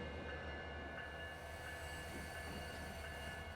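A train running in the video game Transport Fever gives a steady, low rolling rumble with faint high wheel noise, continuous and unchanging throughout.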